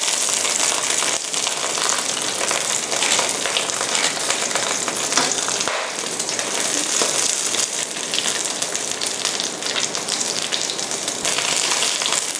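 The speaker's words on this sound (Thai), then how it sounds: "ทอดนะคะให้กุ้งเนี่ยสีสวยทั้งสองด้านซะก่อนนะคะ" River prawns frying in a pan for pad thai, a steady dense crackling sizzle that holds loud and even throughout with no talking.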